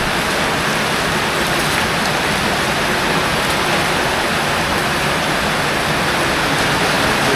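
Heavy monsoon rain falls steadily during flooding, making a dense, loud, unbroken roar with no pauses and no voices over it.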